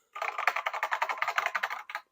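A 1984 NABU computer's mechanical keyboard with Alps switches is typed on in a quick, steady run of about twenty crisp, clacky keystrokes, close and clear, ending with a short pause and a final couple of presses.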